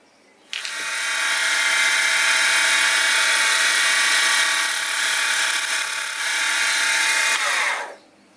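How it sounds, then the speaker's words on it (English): A small power drill re-bores the valve rod fork end of a Stuart 10V model steam engine for a 5BA thread, a steady close whine that starts abruptly, holds for about seven seconds and cuts off, with no talk. "what I'm going to have to do is re-drill that and thread it again 5BA."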